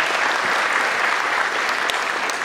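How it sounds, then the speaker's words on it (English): Applause from a conference audience for a panel at a fashion forum, steady and even clapping across the hall that holds at a consistent level with nobody speaking. "round of applause for the panel"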